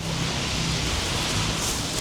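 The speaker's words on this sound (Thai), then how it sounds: "ฝนตกหนักก่อนที่จะเดินทางไปหาน้อง ๆ ได้" Heavy rain pours steadily as a dense, loud, even hiss with no break, with wind in the scene and no voices.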